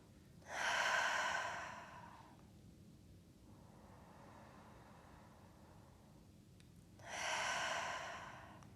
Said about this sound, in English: there is some degree of cooling quality with those exhales through the mouth